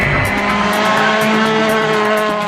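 A Volkswagen Polo R WRC rally car with a turbocharged four-cylinder engine of almost 300 horsepower accelerating hard, loud and close from the cockpit, the engine note climbing steadily through the gear with a rising whine and no talk.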